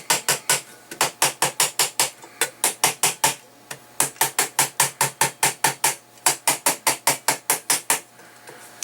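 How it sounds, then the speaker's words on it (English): A hammer pounds metal while shaping a lid for a GSI cup, in quick, even bursts of sharp ringing strikes, loud and close, with short pauses between runs. "pound on the top part, and then kind of curve the hammer down as we're pounding"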